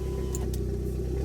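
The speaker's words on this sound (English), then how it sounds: "So I'll turn it on real quick so you guys can actually hear the exhaust leak." An Audi A4 wagon idles with an exhaust leak, making a steady mid-pitched engine drone with a rapid, regular ticking pulse running through it, close and continuous.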